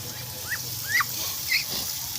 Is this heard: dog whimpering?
yes